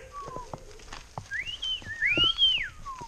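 A person whistles a series of sliding, rising and falling notes, fairly close, with some faint background noise and scattered clicks.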